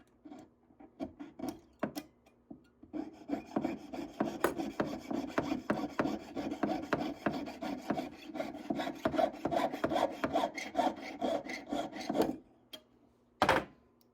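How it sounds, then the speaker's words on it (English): A small saw works through the joint of a metal ring being formed at a jeweller's bench, giving a rapid, even rasping stroke that builds after a few tentative passes, runs steadily for about ten seconds, then stops with a final knock. "Now, we'll go ahead and give that another saw here."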